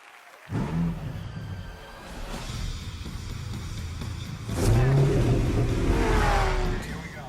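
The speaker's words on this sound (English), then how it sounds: "I've been racing around in some of the hottest cars in the world, including this custom Ford Mustang, my car in the movie" A custom Ford Mustang race car engine roars and revs up loudly, rising in pitch in two surges at an event stage, with crowd noise beneath.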